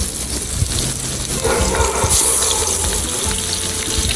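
Hilsa fish pieces dropped into hot oil over fried onions, giving a steady, loud hissing sizzle that holds for several seconds without talk.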